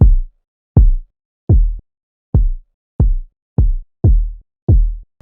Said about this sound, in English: This one's a deeper kick.